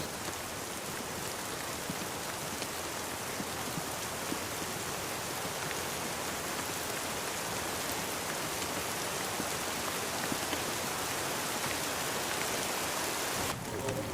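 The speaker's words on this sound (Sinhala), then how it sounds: "ඉතින් හොඳටම වහිනවා" Heavy rain pours steadily on a rainy road trip toward Bambarakanda Falls, a dense, unbroken hiss of drops on surfaces that stays at an even, strong level throughout, with no voices.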